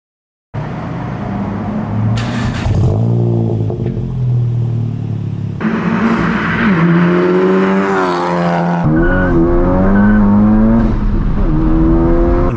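A turbocharged VW GTI with a Cobb titanium catback exhaust revs hard in repeated pulls, the exhaust rising and falling in pitch with a deep, raspy rumble, loud and close.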